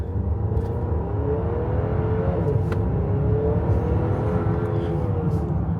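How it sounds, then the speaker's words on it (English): A 2025 Buick Enclave Avenir with a 2.5-liter turbocharged four-cylinder accelerates hard in Sport mode, its engine note climbing steadily over a constant in-cabin road rumble, with no talking. "Go ahead and go into Sport, and let's floor it."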